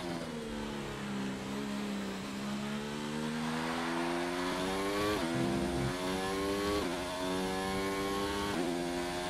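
An F1 car's engine in F1 2019 at Silverstone holds a steady high-pitched whine, with its pitch stepping up and down through gear changes, loud and continuous with no talking.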